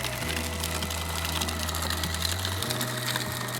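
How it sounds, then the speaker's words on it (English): A food processor fitted with a chop blade purees hot dog meat, its motor a steady loud whir that holds an even drone and shifts pitch slightly partway through, running alone without talk. "I'm using the chop blade on this."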